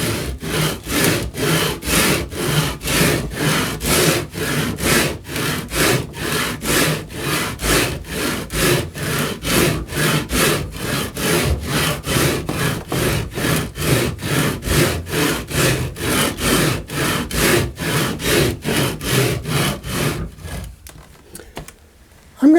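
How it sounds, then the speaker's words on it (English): Cork roadbed for a model railroad helix is cut in long, steady strokes, giving a loud, close, rhythmic rasp of about forty even passes before stopping abruptly. "I'm going to continue cutting down on the cork here, giving it a nice smooth transition."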